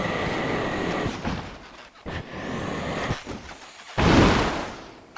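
In the video game Scrap Mechanic, a car drives past with a loud hissing, brake-like whoosh, preceded by rumbling and scraping noises with a few abrupt breaks.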